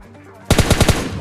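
Burst of automatic gunfire from PUBG Mobile Lite gameplay, about five rapid loud shots in quick rhythm after a half-second of quiet game ambience, close and punchy.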